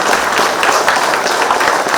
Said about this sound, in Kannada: ಆ ಮಾತಿಗಾಗಿ ಅವರಿಗೆ ಜೋರಾದ ಚಪ್ಪಾಳೆ